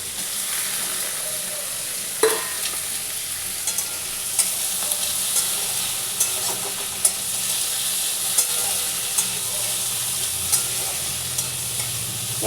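Jackfruit seeds dropped into hot oil in a pan for a prawn and jackfruit curry, a steady close sizzle with occasional stirring clinks and scrapes and no talk.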